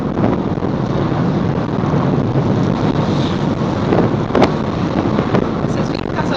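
Rough surf pounds a beach under strong wind, a dense, continuous roar of breaking waves with wind buffeting the microphone, loud and close throughout.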